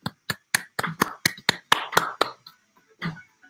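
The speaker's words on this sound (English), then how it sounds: "you get a 3-second clap." Sharp hand claps ring out one after another, roughly a dozen crisp close hits in an uneven run lasting a few seconds, followed by a pause and one final clap.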